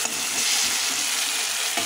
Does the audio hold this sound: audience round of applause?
no